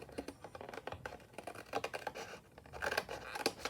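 Scissors cut through paper card while making junk journal tags, an irregular series of close, crisp snips and scratchy rustles at moderate volume.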